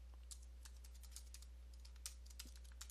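Quiet typing on a computer keyboard while entering database error-handling code: a steady run of light, irregular key clicks with a few sharper taps, close and alone over faint background hum.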